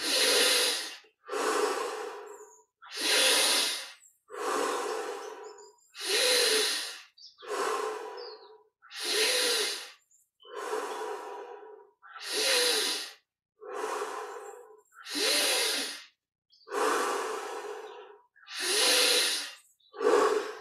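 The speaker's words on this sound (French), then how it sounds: "on augmente maintenant progressivement l'amplitude de chaque respiration." Deep, forceful breaths from guided Kriya Yoga meditation, about a dozen long inhale-exhale cycles in a steady rhythm, close and breathy with soft hissing air, and no talk over them.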